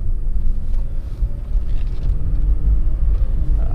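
Cadillac XLR engine rumbling at low revs while driving, a steady deep drone with road and wind noise, no voices.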